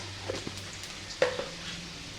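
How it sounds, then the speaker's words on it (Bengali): Lentils and five-spice seeds hit hot oil in a pan, giving a brief crackling sizzle with a couple of soft stirring knocks, close and moderately loud. "পাঁচফোড়ন দিয়ে দেব ডাল তেলেতে"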